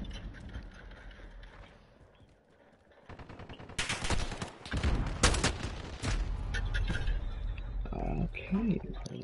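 Shotgun blasts in a video game ring out amid a dense, busy stretch of rapid mechanical clatter and bursts, with a voice talking over the action.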